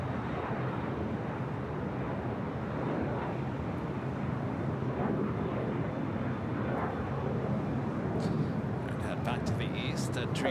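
An Embraer E175 regional airliner taking off at LAX gives a steady, broadband jet roar that holds loud and constant throughout, with wind buffeting the microphone and some brief higher-pitched noise near the end.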